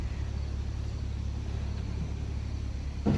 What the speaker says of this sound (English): as I'm doing this, the trash truck is here.